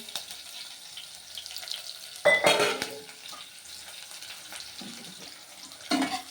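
Onions, green chilies and dried chilies fry in a pan, with a steady soft sizzle under clattering stirs and a loud burst of spatula scraping in the middle and again near the end.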